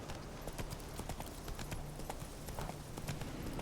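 Roach, the horse in The Witcher 3, gallops with a steady rapid clip-clop of hooves, close and continuous, with low game ambience underneath and no speech.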